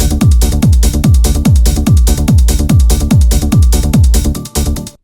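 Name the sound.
double offbeat bass pattern, from a remix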